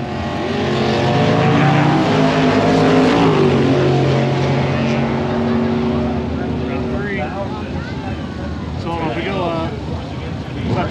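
Drag race car engine revving with throttle blips at the track, loud and close with rising and falling tones, while voices talk over it throughout.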